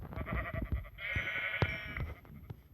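Sheep bleating in the video game Minecraft, several wavering bleats in quick succession from a nearby animal, with a longer sustained call in the middle, sounding clearly and alone without talk.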